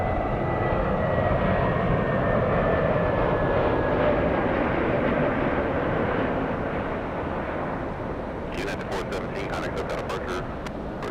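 An Airbus A321 at Los Angeles International Airport makes a broad, steady engine roar that fades slightly near the end, with someone talking over it and a few sharp clicks at the close.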